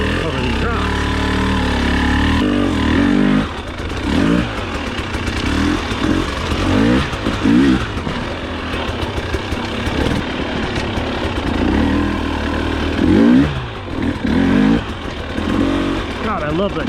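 A 2021 TX300i two-stroke hard enduro motorcycle picks its way over rocks, its engine revving and bogging in uneven bursts with clattering underneath, close and loud, while someone talks over it.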